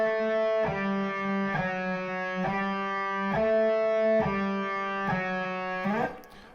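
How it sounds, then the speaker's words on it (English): A distorted electric guitar plays a slow, steady run of sustained notes with quick, nearly seamless changes between them, ending in a brief fade; no voices. "So I'm gonna play the same thing at roughly the same tempo,"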